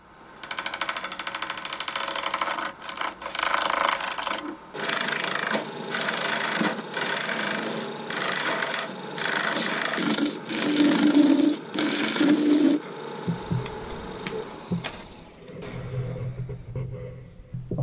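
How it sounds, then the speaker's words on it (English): Wood lathe turning a steel and resin blank into a bottle opener with a gouge, a harsh scraping rasp in repeated cutting passes with brief pauses, loud and close, ending in a lower hum. "So I think I might swap to my gouge"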